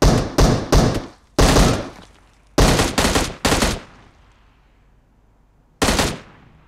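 Gunfire in PUBG Mobile: several loud, close bursts of rapid shots and single cracks, each followed by a short decaying echo, with pauses of quiet between volleys.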